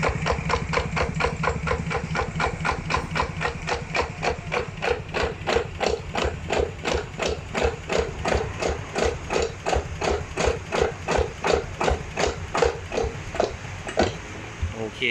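Kubota ZT180 small single-cylinder diesel engine, started from a key switch, runs with a steady rapid thumping beat for fifteen seconds, the pulse quickening as it is revved, close and loud with no talk over it.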